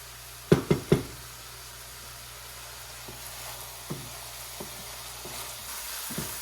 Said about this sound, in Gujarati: હવે એને 2 મિનિટ શેકાવા દઈશું।